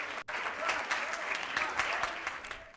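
A studio audience applauds, dense continuous clapping at close range that swells and fades slightly over a few seconds, with a brief cut near the start.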